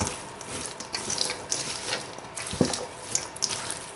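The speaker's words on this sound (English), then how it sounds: "Now just mix everything together." Tarragon chicken salad ingredients being stirred together with mayo in a bowl, soft wet scraping and squishing with a few light clinks, close and fairly quiet, with no talk.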